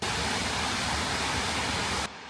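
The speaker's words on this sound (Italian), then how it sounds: "riusciamo ancora a vedere la cascata con il" Marmore waterfall at full flow, a steady broad roar of rushing water heard continuously and fairly close, cutting off abruptly near the end.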